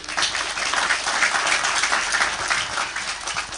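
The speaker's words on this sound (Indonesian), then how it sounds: "Tepuk tangan buat beliau." A crowd applauds steadily, dense clapping filling the space for a few seconds without a break.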